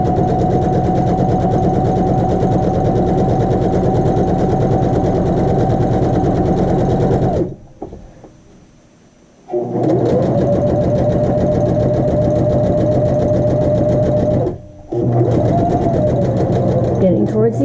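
A sewing machine stitches straight forward across a 12-inch muslin square with no backstitching, running in steady loud bursts with a pause near the middle and a brief stop toward the end.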